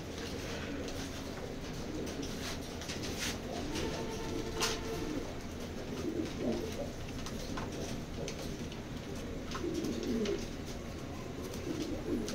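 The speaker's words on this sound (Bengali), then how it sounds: "কবুতরটা, আমি দেখাই।" A fancy-breed Aladdin pigeon coos repeatedly in soft, low, rhythmic phrases nearby, with faint chirps and a few sharp clicks in the background.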